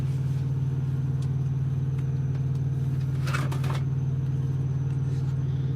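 A Prime Inc truck engine idles nearby, giving a steady, even low drone with a brief rustle partway through.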